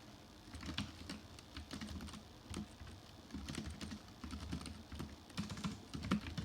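Typing on a computer keyboard while writing notes during an interview, a steady run of soft close-up keystrokes in irregular rhythm with no talking.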